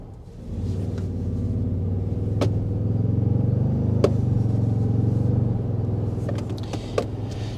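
A 2023 Toyota Sequoia Capstone pulling away gently from inside the cabin, a steady low engine rumble building softly and holding even, with a few faint clicks over it and no talk.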